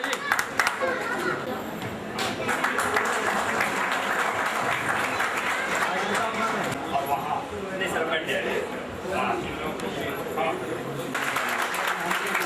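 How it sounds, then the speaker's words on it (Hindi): Audience applause fills a ceremony hall as a retiree is honoured, steady clapping with crowd chatter and children's voices, while an announcer speaks over it. "प्लीज ताली बजाएं आप।"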